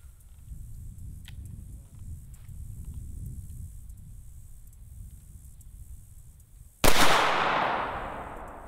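One-handed pistol shooting with an M17 and an HK P30L: a low steady rumble gives way to a single loud, sharp, close shot near the end, with a trailing decay.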